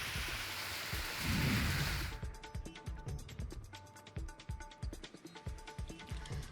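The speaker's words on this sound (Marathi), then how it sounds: "राजापूर साठे या परिसरामध्ये गारांचा पाऊस पडलाय" Unseasonal rain with hail falling in the Rajapur Sathe area near Junnar: a dense downpour hiss at first, then rapid, irregular sharp impacts of hailstones pattering on surfaces.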